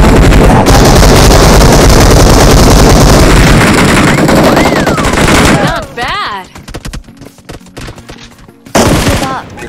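Rapid automatic gunfire blasts from a mobile battle royale game, loud and dense bursts filling the first half, then sparse shots and short bursts with game effects, a player talking briefly over it.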